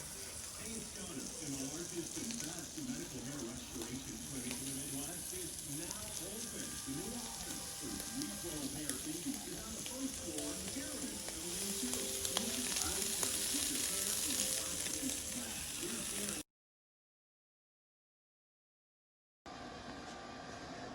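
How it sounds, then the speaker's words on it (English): Pork belly fat sizzling and rendering on a simmer in a cast iron pot, a dense continuous crackle and hiss with faint stirring, holding steady for a long stretch before briefly cutting out. "We're gonna go on simmer and take a good hour to get this fat rendered down"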